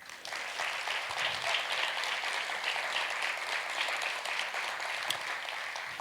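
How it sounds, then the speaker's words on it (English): A jazz musician named Diego Rivera gets steady audience applause at a jazz music intensive: a dense wash of many hands clapping that holds evenly for the full stretch. "How about a round of applause for Diego Rivera?"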